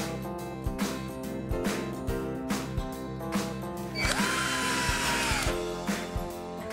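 A power drill whirs in repeated bursts with clicks between them, fixing wooden battens to a wall, one longer high-pitched run in the middle; close and fairly loud, no voices.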